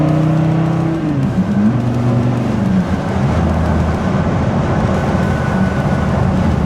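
Dodge Viper V10 with a triple-disc clutch downshifting from sixth to fourth, the engine note stepping up abruptly into a loud, steady, rumbling drone heard from inside the car.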